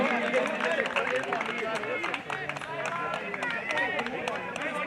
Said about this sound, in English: Must be cheering their team.